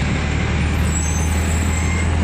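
Dense road traffic jam with trucks and buses idling and creeping, a steady low engine rumble filling the whole stretch with a continuous broadband roar and no clear pauses.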